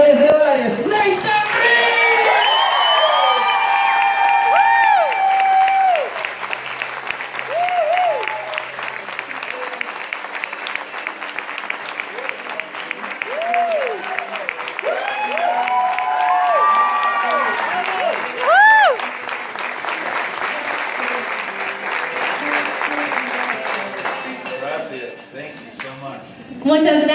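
An audience in Bogotá applauds and cheers a returning leader at a business event, a dense sustained wash of clapping with whoops and shouts that runs loud throughout the clip.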